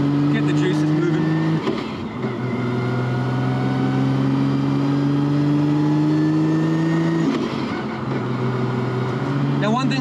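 A Nissan Skyline GT-R with an RB30 3.2-litre engine cruising at low revs, its steady engine drone holding level with small shifts in pitch, loud and close throughout, with a voice talking over it.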